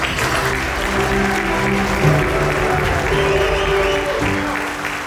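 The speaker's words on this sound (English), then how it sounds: "there's one person, the tour de force, that needs a round of applause" A large audience applauds steadily at a golf event at Pebble Beach, the dense clapping sustained and even from start to finish with no talk over it.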